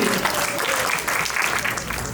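Guests at a birthday party applaud a performer named Sally, a continuous wash of clapping from a small crowd, with some voices mixed in.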